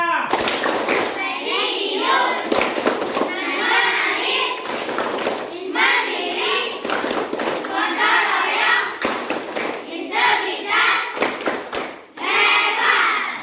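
A school class performs the Tepuk PPK clapping chant, children chanting together in unison and clapping in rhythmic bursts, loud and close, with brief pauses between phrases.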